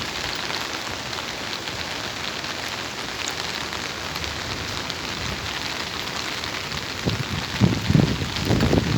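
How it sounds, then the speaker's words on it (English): Steady rain pours down with a constant broadband hiss, drops pattering on surfaces nearby; a few heavier splashes near the end. "It's freaking raining."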